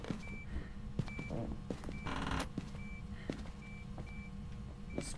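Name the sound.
odd beeping of equipment in a ghost-hunting video game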